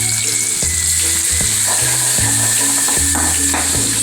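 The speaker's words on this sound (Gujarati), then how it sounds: "તો હવે આપણે લસણ બધું એડ કરી દઈએ।" Chopped garlic fries in hot oil in a pan for a Rajasthani chutney, giving a steady close sizzle with crackle and brief clinks of stirring throughout, and no voices.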